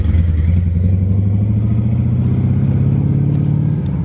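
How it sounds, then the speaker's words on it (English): A loud, noisy truck passes close by on a street, its low engine rumble rising steadily and holding strong for several seconds before easing slightly at the end. "Loud, noisy truck, huh?"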